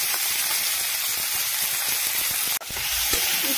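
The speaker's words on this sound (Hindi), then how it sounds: "इसको अच्छे से फ्राई कर लेना है जब तक कि ये गोल्डन ब्राउन ना हो जाए।" Poha ingredients including peas and green chillies frying in hot oil until golden brown, a loud, close, steady sizzle and hiss with crackling pops, briefly cut near the end, no talking.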